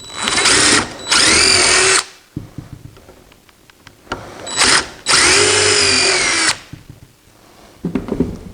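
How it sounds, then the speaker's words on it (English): A power drill drives screws into an I-beam saw horse in two long, loud whirring bursts, with clunks and handling noise between the runs and no speech. "then I start a couple of screws up here"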